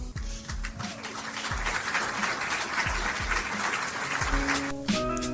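Applause follows a presidential announcement by Trump of a deal to end the government shutdown and reopen the federal government, heard as a recording; steady dense clapping runs throughout, with music-like tones underneath and a change near the end.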